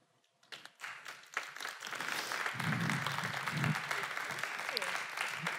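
An audience breaks into applause for a talk speaker, a few scattered claps building into sustained, fairly close clapping with faint voices mixed in.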